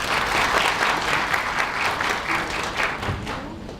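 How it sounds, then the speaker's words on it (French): Ceremony audience applauds a singer, a dense, steady patter of many hands clapping at moderate volume, with faint voices mixed in. "Je vous demande de l'applaudir à nouveau s'il vous plaît"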